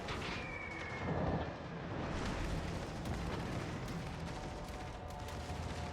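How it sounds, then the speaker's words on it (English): Rapid secondary gun salvos from the battleship Massachusetts in the naval combat game World of Warships Legends, a dense, continuous rumble of booming shots with sharp cracks layered over one another, loud and sustained throughout. "We're hitting his deck a lot with the secondaries"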